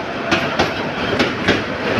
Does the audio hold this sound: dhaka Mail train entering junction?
yes